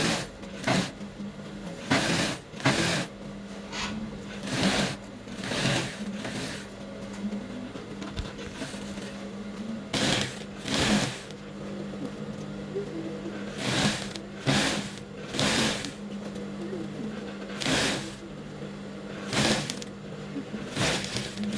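A sewing machine stitches around a mermaid skirt in short bursts of whirring, stopping and restarting many times with soft handling noises in the pauses.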